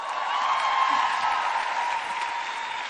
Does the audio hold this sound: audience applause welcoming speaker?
yes